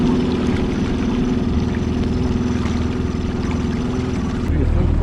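Outboard motor on a small dinghy running steadily on a winter boat ride in Brentwood Bay, British Columbia, a continuous close drone with water rush throughout, changing slightly near the end.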